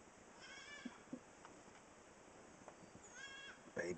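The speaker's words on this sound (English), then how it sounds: "Baby goat." A baby goat bleats faintly a few times at a distance, short thin cries scattered over steady background hiss with a louder call near the end.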